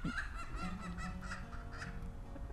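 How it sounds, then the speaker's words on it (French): A hen squawks as a rooster harasses her, the honking fowl calls repeating in short bursts above a steady outdoor background, with no talk. "il y a une poule qui passe un sale quart d'heure avec le coq"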